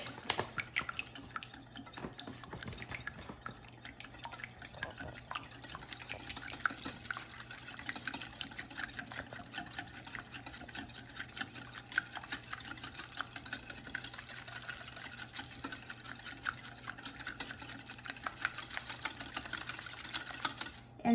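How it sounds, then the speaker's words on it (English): Egg whites are whisked quickly and continuously in a bowl, a fast, even rattling whir held at low volume for the whole stretch with no talk. "So whisk it."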